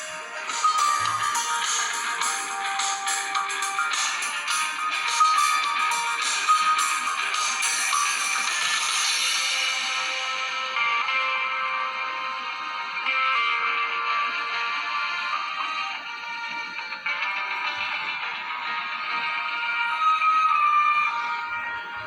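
Music plays continuously from the rear speaker of a Samsung Galaxy Tab 3 Lite, bright and thin with little bass, steady and fairly loud with no talking.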